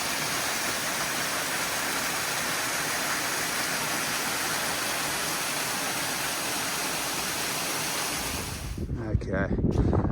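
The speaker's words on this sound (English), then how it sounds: "there's a fair bit of water coming down that waterfall" Water pours down Yallingup Falls, a steady broadband rush close by with wind buffeting the microphone, ending in a brief handling thump.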